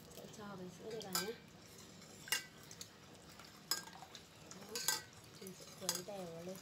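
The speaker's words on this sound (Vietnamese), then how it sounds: "Quấy đều vào" Milk being stirred into a pot of tea for homemade bubble milk tea, with a few sharp utensil clinks against the pot heard under a person talking throughout.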